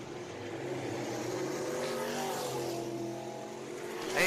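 Race cars roar around the Deep South Speedway track, a continuous loud engine drone with shifting pitch as cars pass, building sharply at the end.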